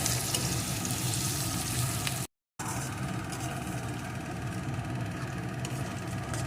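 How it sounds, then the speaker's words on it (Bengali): Chopped onion and crushed garlic fry in a pan for kadai chicken, a steady close sizzle that runs on without letup, broken only by a short silent gap partway through. "এখন একটু নেড়ে নেব যতক্ষণ না এই পেঁয়াজ রসুনের কাঁচা গন্ধটা দূর হয়ে যায়"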